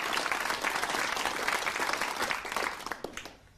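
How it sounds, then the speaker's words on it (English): A studio audience applauds a special guest, Roy Castle, on a 1989 television programme, a dense wash of clapping that holds steadily and then thins out and fades near the end. "Round of applause for our special guest, Roy Castle."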